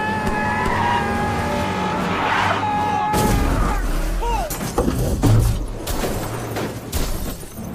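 A car accelerates hard with tires squealing and skidding, engine roaring close by, then clattering and thumping as it races on, with shouting voices over it.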